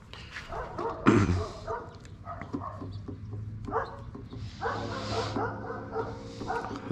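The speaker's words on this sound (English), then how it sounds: "The dog's always freaking barking" A dog barks in the background during a car trunk liner removal, a sharp bark standing out near the start and smaller yips and whimpers continuing at moderate distance amid rustling work noise.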